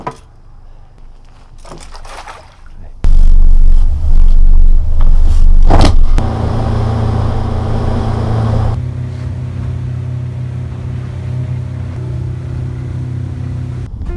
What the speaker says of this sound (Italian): accendiamo il motore che intanto si scalda